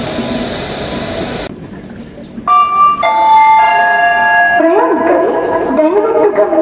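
At a railway station, the Golgumbaz Express pulls away from platform 8 with a rumbling rolling noise. Sustained whistle-like tones and squeals ring out over the crowd, and a voice talks in the background.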